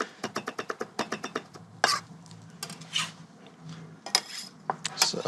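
A knife finely chops herbs and garlic on a cutting board in a quick, even run of crisp taps, then stops and starts again in scattered bursts, close and clear.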